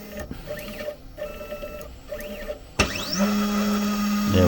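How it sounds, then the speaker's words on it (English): A Sainsmart Genmitsu 4040 Pro CNC machine homes its axes. Stepper motors whine in short rising and falling tones, pause between moves, then settle into a steady, close, mechanical hum. "as you can see, the machine is homing."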